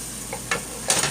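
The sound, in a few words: stew ingredients searing and being stirred in a pot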